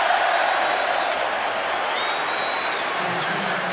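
Stadium crowd at Old Trafford roars and applauds after a Manchester United goal against Manchester City in a semi-final, a dense, loud, sustained wash of cheering and clapping.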